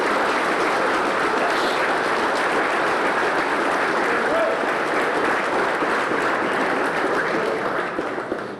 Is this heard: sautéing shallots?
no